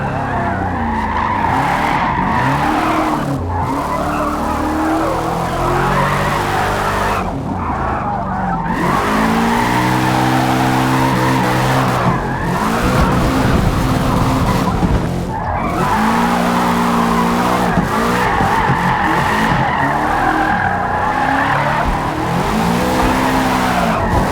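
In the Forza Motorsport racing game, a car with stiff suspension drifts with continuous loud tire squeal and skidding over a roaring engine, the screech swelling and easing in waves without a break.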